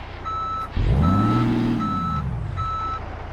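Reversing beeps from a truck backing up to a trailer in Euro Truck Simulator 2, evenly spaced tones over a loud rising and falling engine rumble.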